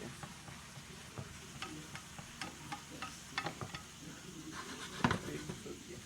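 Jambalaya with rice sizzles steadily in a pot while a spoon stirs it, giving scattered scrapes and taps against the pot, with one louder clank near the end.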